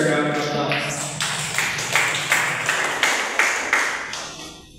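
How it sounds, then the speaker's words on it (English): Audience applause for a guest speaker at an education and law forum, a steady patter of many clapping hands with a few louder individual claps, carrying a hall echo and fading out near the end. "let's give Mr. Lloyd another round of applause"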